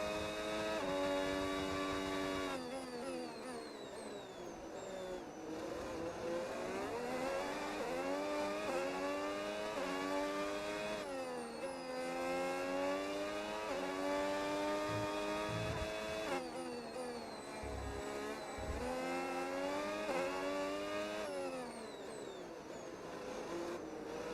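Formula 1 car engine in the F1 26 racing game, a loud sustained whine rising and falling through repeated gear changes, with rear wheels spinning under acceleration; no one talks.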